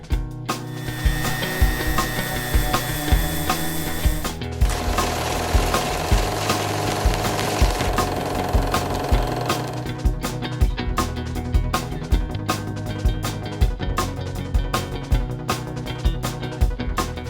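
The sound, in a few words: sanding wood filler on table top smooth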